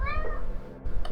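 A cat gives one short, faint meow near the start, followed by quiet background noise and a soft bump.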